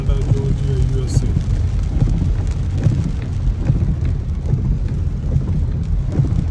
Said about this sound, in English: So we got a lot of rain today